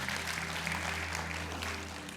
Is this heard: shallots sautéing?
no